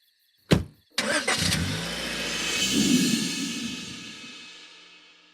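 A car engine cranks briefly, catches on a second try, then revs and pulls away, its rumble rising and slowly fading as it drives off. The sound is close and clear, with no talk.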